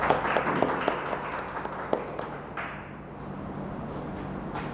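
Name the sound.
audience applause welcoming a speaker to the stage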